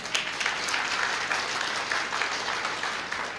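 A church congregation at a field training programme claps together, a steady, even wash of applause that holds for the whole moment at moderate distance, with no voices over it.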